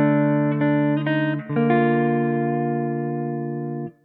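A clean Telecaster guitar through a Princeton Reverb amp with reverb plays a few plucked notes, then a ringing chord that sustains and fades with a lingering wash of reverb.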